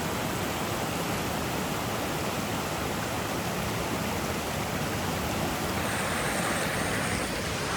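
River water rushes steadily over the rapids at Corn Creek on the Coosa River, a loud, dense and unbroken roar that stays close and constant throughout.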